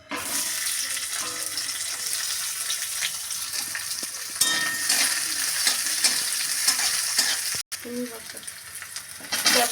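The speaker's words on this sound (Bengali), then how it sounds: "এদিকে আমি কড়াতে এবারে তেল গরম হয়ে গেছে, আমি পেঁয়াজ দিয়ে দেবো।" Diced onions dropped into hot oil in a wok: a loud, steady sizzle and frying hiss with some stirring clatter, close up, with a brief cut near the end and no talk.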